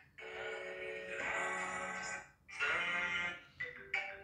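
A ringtone preview on a Vivo V40 Pro 5G phone plays a melodic tune in short bursts, with a longer phrase, a brief dip, and then a few clipped snippets, heard alone at moderate level.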